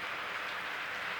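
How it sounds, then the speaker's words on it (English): Rain falling outdoors on a rainy day, a steady even hiss of light rain close by with no breaks and no voices. "It's still a rainy day."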